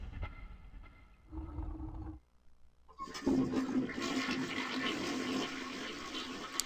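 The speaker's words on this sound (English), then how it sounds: "this audio track uses a toilet flushing sound for some reason" A toilet flush in the 3DO video game Killing Time: a rushing, gurgling swirl of water that drains, briefly pauses, then surges again into a sustained loud flow.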